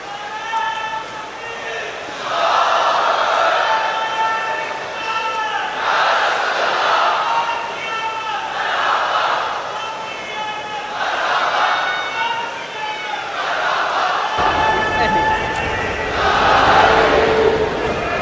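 A large crowd at an outdoor religious conference held on palace grounds for the Prophet's birthday chants Naara-e-Takbeer slogans in loud, evenly spaced call-and-response bursts that repeat steadily.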